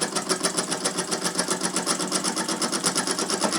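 An antique Jensen toy steam engine runs steadily, giving off a fast, even, rhythmic chuffing and mechanical clatter that stays close and constant throughout, with no voices.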